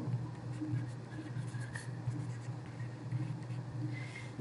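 Pen writing notes during a chemistry lecture: soft, continuous scratching strokes over a steady low electrical hum, with no voice heard.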